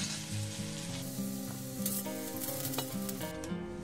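Potatoes and carrots fry in hot oil in a home kitchen, giving a steady, close sizzle that runs the whole time, with a tuneful layer of background music underneath.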